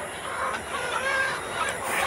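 Hubbard colour chickens, a red sonali-type breed, clucking together in a poultry shed, a continuous crowd of hen calls at moderate loudness with no talk.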